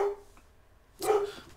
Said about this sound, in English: This dog's barking.